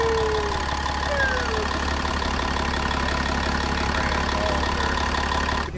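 A second-generation truck swapped with a 6.7 diesel engine idles steadily, a constant low rumble with faint chatter holding even and close throughout, no revving.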